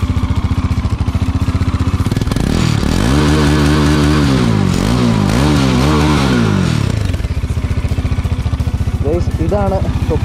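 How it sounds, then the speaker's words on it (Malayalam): A Bajaj Dominar 400 motorcycle runs with its silencer removed, a loud, rapid, raw engine beat close by that climbs and falls through several revs before settling back to a fast idle. "ഇതെല്ലാം സൈലൻസർ ഊരിയിട്ടുള്ള സൗണ്ട് എന്ന് പറയുന്നതാണ്."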